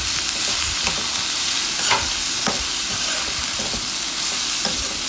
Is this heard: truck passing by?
no